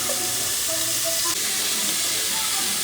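Oil sizzles steadily in a pan during cooking of prawns, a constant close frying hiss with faint clinks and no talking.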